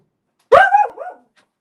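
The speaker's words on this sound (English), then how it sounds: "It will stop his barking so that it's not directly in my face." A single dog's bark, loud and close, a sharp yelping burst that slides down into a shorter follow-up whine, alone after a moment of silence, with distant fireworks booming nearby.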